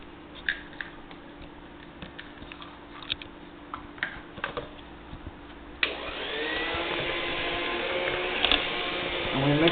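Electric mixer beating cheesecake batter with eggs: a few clicks and knocks first, then the motor starts and runs with a steady, rising whine, close and loud.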